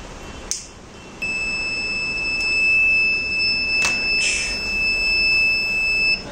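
An electronic alert from a Raspberry Pi image-processing fire detection system gives sharp, high-pitched beeps and a steady sustained tone, close and loud over a quiet room, with a couple of short bursts near the end.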